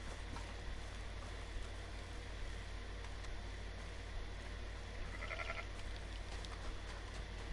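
Sheep bleat in the video game Red Dead Redemption 2, a short faint cluster of bleats over a steady low background hum and rustle, otherwise quiet.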